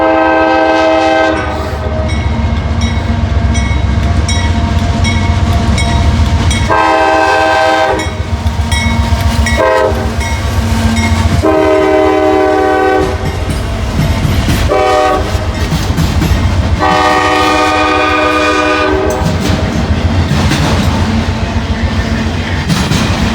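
Southbound freight train number 286 rolling through Hamilton, loud and close, with long blasts of its horn repeating over the steady rumble and clatter of the passing cars.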